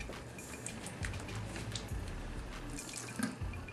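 Tap water running into a sink while a makeup brush is rinsed clean, a faint, steady splashing stream with small irregular drips and trickles and no voices.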